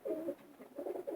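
Racing pigeon, a long-distance marathon breeding bird, cooing up close in three soft rolling phrases with short pauses between them.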